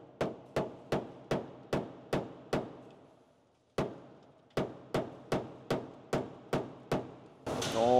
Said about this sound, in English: Let's see if I can do something with a hammer.